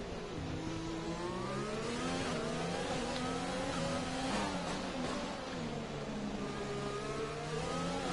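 Race cars accelerating through a close wheel-to-wheel battle, engines whining and shifting steadily in pitch, loud and continuous with no voices.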